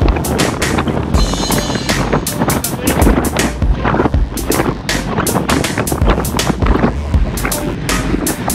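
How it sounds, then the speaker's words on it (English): Strong, steady wind buffeting the microphone on an exposed road during a group bike ride on FM 1097 North, loud rumbling gusts that persist throughout with a rough, flapping texture. "it's always very windy here because it's very exposed"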